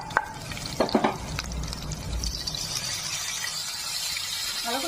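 Garlic with a ground paste of onion, ginger and green chilli frying in oil, soft sizzling with a few stirring clatters near the start, close and continuous.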